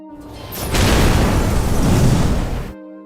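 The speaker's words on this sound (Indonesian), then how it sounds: "helikopter pun menabrak rumah lalu meledak" A helicopter crashes into a house and explodes in a film scene: a rising whoosh gives way to a loud, sustained blast with rumbling debris, ending abruptly under an underlying music bed.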